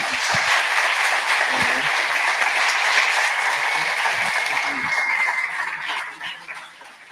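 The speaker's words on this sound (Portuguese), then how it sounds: "Uma salva de palmas para ele." An audience gives sustained applause for Emílio after his talk on web application attacks, dense clapping that thins and fades over the last seconds.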